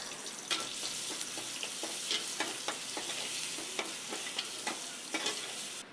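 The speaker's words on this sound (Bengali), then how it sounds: "পেঁয়াজ আর মরিচ দিয়ে দিল, এখন এগুলো ভাজা হবে" Onion and chili fry in hot oil in a wok, a loud steady sizzle broken by frequent sharp scraping stirs.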